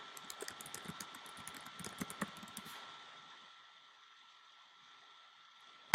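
Quick bursts of keyboard typing, light clicky taps in an irregular run for about two seconds, then near silence with a faint hum and one final click.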